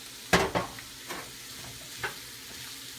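Vegetable medley with mushrooms in hot oil, a soft steady sizzle broken by a few sharp scraping stirs near the start and a couple more later, close up with no voices.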